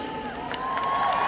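Summit audience breaking into a burst of clapping, cheering and whoops, a dense crowd roar swelling over a second or so.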